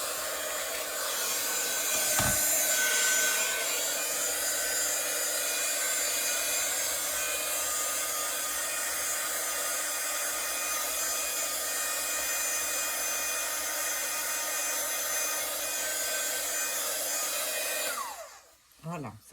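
A heat gun blows steadily on a watercolor craft to dry it, a constant loud whooshing roar that runs almost unbroken before cutting off near the end, with no talking.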